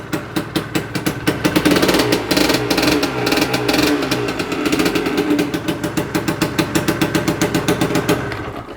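A 1989 Kawasaki AR125 two-stroke motorcycle that has not been started in a while idles loudly and close by, with a raspy, rapidly pulsing beat and a brief rev partway through.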